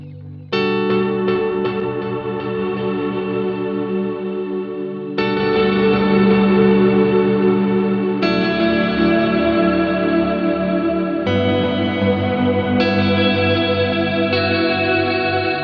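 A sustained electric guitar chord runs through delay into reverb, ringing with washy, diffuse repeats blurring into a long reverb tail, changing chords several times at a steady pace.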